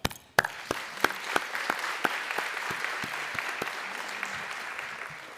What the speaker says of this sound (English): please help me in providing a round of applause for Amazon.